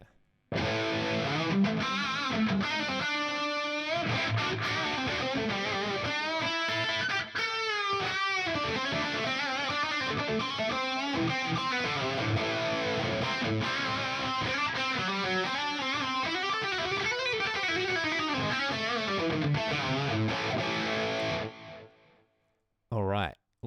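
Distorted electric guitar through a pitch detune effect on an FAS AX8 with power amp simulation, playing a continuous loud, thick chorused passage of chords and runs for about twenty seconds before stopping abruptly.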